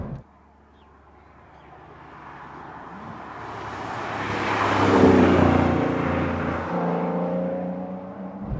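Aston Martin Vanquish with a fully standard exhaust, its valves wedged open, passes by alone, swelling from a distant whir to a loud, rich engine roar near the middle before fading slightly.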